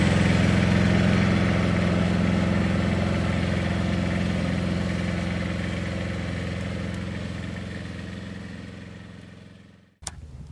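A tractor engine runs steadily while working a King Kutter landscape rake, a loud continuous drone that fades gradually over several seconds, then cuts off abruptly with a sharp click before a quiet hum resumes.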